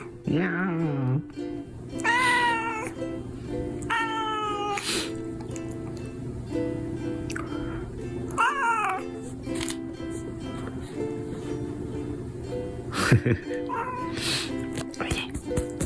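A cat meows several times, each call a short rising, wavering cry, near and fairly loud over a steady background hum, with people speaking softly between the calls.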